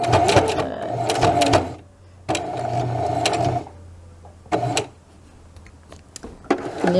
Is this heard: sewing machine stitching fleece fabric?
yes